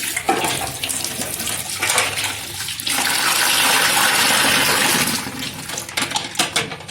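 Makeup brushes and beauty blenders being washed and squeezed in a basin of water, with steady splashing and sloshing that swells into a louder continuous run of water midway, then breaks into choppier splashes.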